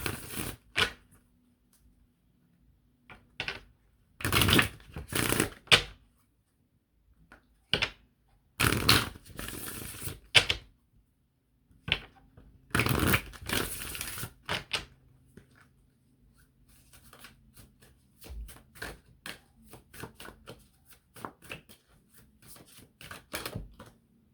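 Oracle cards are shuffled by hand during a tarot-style card reading, in quick papery riffling bursts separated by short quiet pauses, close and fairly crisp, with lighter shuffling toward the end.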